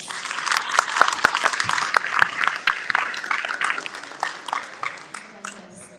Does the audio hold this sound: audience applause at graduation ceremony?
yes